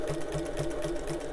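A sewing machine stitches a wallet seam up to the top of the card slots, a steady close mechanical whir with a regular rhythmic needle pulse.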